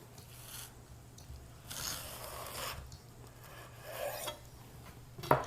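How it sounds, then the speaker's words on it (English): A sharp knife sawing through a watermelon crepe sandwich, cutting it in half on the diagonal, gives a dry, rasping scrape in a few near strokes, ending in a louder crunch as the blade finishes. "Ready to slice this in half? We should definitely cut this on the diagonal"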